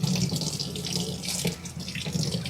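Disassembled beer faucet parts are rinsed under a running sink tap, water splashing steadily and close with slight surges as the pieces move through the stream, and no voices over it.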